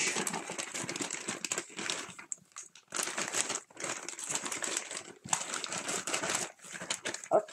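Embroidery supplies crinkle and rustle as they are packed back into a pouch, coming in several close bursts of crumpling plastic separated by brief pauses.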